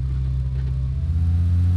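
A car engine rumbles close by in PUBG Mobile, a loud low steady drone that swells slightly as the vehicle passes, with no one speaking.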